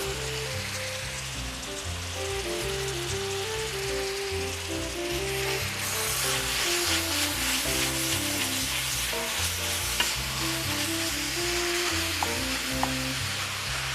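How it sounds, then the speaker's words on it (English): Ground pork and hamburger meat frying in a pan give a steady, close sizzle that runs the whole time beneath loud, rhythmic background music. "We're going to cook this off so that all the red from the pork and the hamburger is gone"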